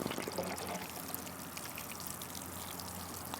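Water pours steadily from a can onto a potted tomato plant, a close, continuous splashing trickle with no talk.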